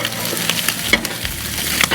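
Carne al pastor and bacon pieces frying together in a pan for tacos de alambre, a steady close sizzle with a few spatula scrapes and taps.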